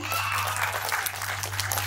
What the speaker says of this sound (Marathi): जोरदार टाळ्या झाल्या पाहिजे तिच्यासाठी